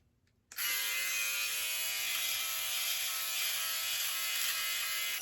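A Philips OneBlade electric shaver runs steadily for about five seconds, a loud, close, even buzz with a bright gritty hum that switches on abruptly and holds without a break.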